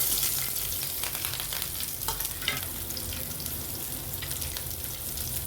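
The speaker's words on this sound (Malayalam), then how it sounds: "നമുക്ക് പച്ചമുളക് ഇട്ട് കൊടുക്കാം ഞാൻ മൂന്ന് പച്ചമുളക് എടുത്തിട്ടുണ്ട് ഇതിൽ" Three green chillies fry in a pan of hot oil, making a soft, continuous crackling sizzle with faint stirring scrapes throughout and no speech.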